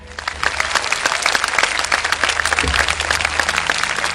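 Audience applause for the kindergarten teachers at a Tamil stage talk, a steady wash of many hands clapping throughout, fairly loud and close with a low hum beneath.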